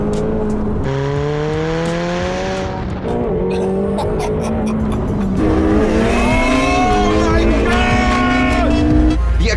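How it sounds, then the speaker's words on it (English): A McLaren sports car accelerates hard, its engine note rising through several gear changes with rising harmonics and possible tire squeal, loud and close. "The acceleration in this thing is brutal because it has less drag, more aero, and more power."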